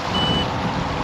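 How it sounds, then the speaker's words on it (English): A low-battery alarm beeps on an SMRC FY011 RC water jet boat, a steady high-pitched electronic tone sounding over constant broadband motor and water noise. "that is the battery alarm"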